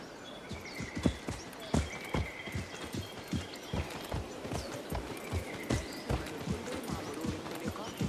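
Horse hooves clip-clop in Assassin's Creed Mirage as a summoned mount trots up, a steady run of sharp, fairly close hoof strikes with faint game ambience behind.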